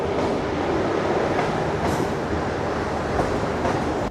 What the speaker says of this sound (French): Attends, il y a le métro.